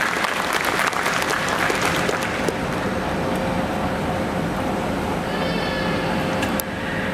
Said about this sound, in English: Everybody with a round of applause, let's welcome Mr. Prasad